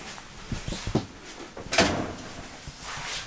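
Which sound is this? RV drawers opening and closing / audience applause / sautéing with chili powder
RV drawers opening and closing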